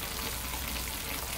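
Butter sizzling in a pan while cooking a Moroccan lamb and chickpea tagine: a steady, soft, hissing crackle throughout, fairly quiet, with no talking.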